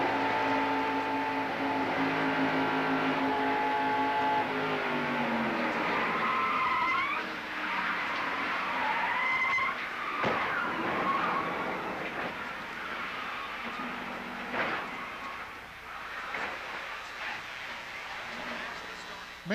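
Buddy Baker's race car in the 1990 Pepsi 400, heard from inside the cockpit: a loud engine howl that rises, falls and shifts pitch, with tire skids, knocks and radio chatter.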